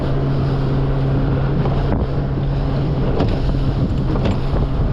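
A small 17-foot boat's engine drones steadily on choppy sea 15 miles east of Ponce Inlet, Florida, while wind buffets the microphone, with occasional thumps and splashes from rough water.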